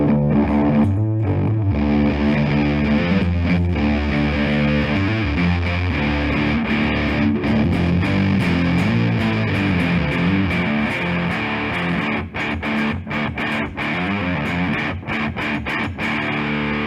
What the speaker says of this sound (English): it means that, yeah, it's a distortion pedal